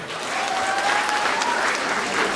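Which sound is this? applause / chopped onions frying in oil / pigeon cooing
applause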